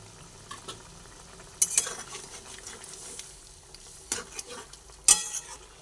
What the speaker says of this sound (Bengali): ফুটছে, সেই অবস্থা আমি এর মধ্যে যে পটলগুলো ভেজে রেখেছিলাম সেই পটলগুলোকে দিয়ে দিলাম